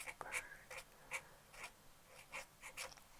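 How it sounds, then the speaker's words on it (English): Pen scratching across paper labels for antique copper watercolor paint, a string of short, quiet strokes repeating in an uneven rhythm, close up, with no talking. "I'm going to have to write smaller."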